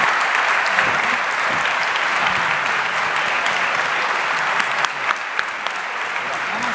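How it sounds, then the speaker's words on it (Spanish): Steady applause from an audience at an international forum on city, commerce and tourism, a full room clapping loudly and evenly after a conference talk, easing slightly near the end. "Con ese fuerte aplauso."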